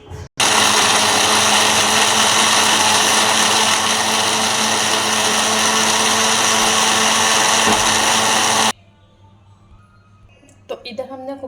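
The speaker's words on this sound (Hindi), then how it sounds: "और अब इसे हम ग्राइंड करते हैं।" A blender grinds ice cream with almonds and dates into a milkshake, a loud, close, steady motor whine that runs for about eight seconds, then stops abruptly before a few quieter sounds and a brief voice.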